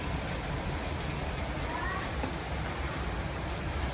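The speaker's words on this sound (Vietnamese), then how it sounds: "Mưa đá nữa chứ." Hail mixed with rain pours down on a summer afternoon in western Melbourne, a dense, steady hiss of drops striking surfaces that holds at an even level throughout.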